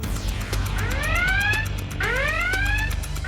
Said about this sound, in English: when the alarm sounds, which product will he go for this time?